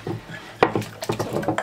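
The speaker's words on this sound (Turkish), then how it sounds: "Tekrar çırpıyorum." A whisk clicks and scrapes against a bowl, beating a yogurt mixture for spinach yogurt soup after warm broth is ladled in; quick, uneven strokes at close range with no talking.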